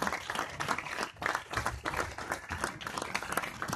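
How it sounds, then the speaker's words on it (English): An audience at a film premiere applauds as cast and crew come onto the stage, enthusiastic clapping with uneven swells, moderately distant and continuing throughout. "You keep up the applause, everyone."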